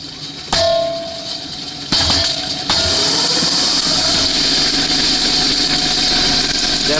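A spherical-wheeled electric bike project runs with a loud, steady mechanical whine and rattling drone that steps up in intensity a few times, close and continuous, with no speech.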